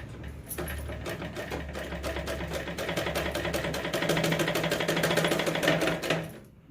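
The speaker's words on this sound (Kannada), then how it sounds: "ನೋಡಿ ತುಳಿದ್ರೆ ಹೊಲಿಗೆ ಬರುತ್ತೆ, ಗೊತ್ತಾಯ್ತಾ" A pedal-driven sewing machine stitches in a quick, steady mechanical rhythm that speeds up slightly, sounding close and loud before stopping abruptly.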